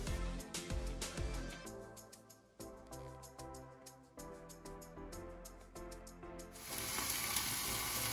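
Chicken drumsticks browning in a hot pan give a steady, close sizzle and crackle that runs throughout, with frying intensifying toward the end.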